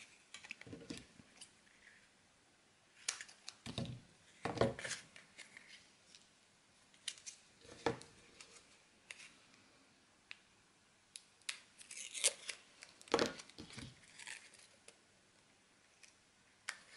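Scissors cut a strip of black cardstock for a scrapbook album, with irregular crisp snips and rustling spread through a quiet stretch, close and fairly soft, no speech.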